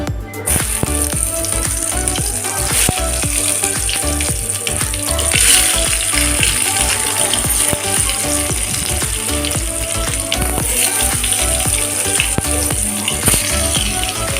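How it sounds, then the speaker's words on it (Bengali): Pointed gourd pieces fry in hot oil, a loud, dense, continuous sizzle and crackle held close throughout, with occasional clicks of a utensil and no voices. "তেল গরম হয়ে গেছে, এর মধ্যে আমি একটা একটা করে দিয়ে দিব"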